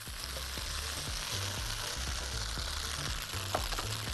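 Carrots going into rice sizzling in a pot for red rice, a steady close frying hiss with small crackles and a few stirring knocks, no voices.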